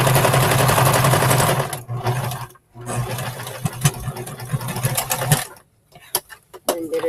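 A sewing machine stitches around a pocket flap with a loud, fast, steady whirr that stops briefly, runs again in shorter bursts, then ends in a few quick back-stitch pulses and clicks, close and without talk.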